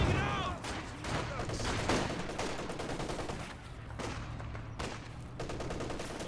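A German MG34 machine gun fires long bursts of automatic fire in the World War II strategy game Company of Heroes 2, with other gunfire and explosions under a commentator's voice.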